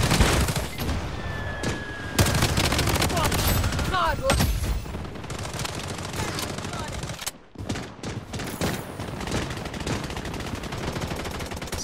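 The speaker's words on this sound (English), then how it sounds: "Taking fire." Rapid bursts of gunfire in a shooter video game crackle and rattle loudly and close, in dense volleys with brief pauses, and faint game voices sit partly beneath them.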